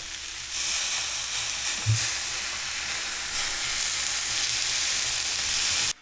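Live lobsters sizzle steadily in a hot pan with a squeeze of lemon, a continuous close, loud frying hiss that runs evenly and then cuts off abruptly at the end.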